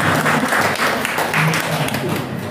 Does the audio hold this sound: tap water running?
no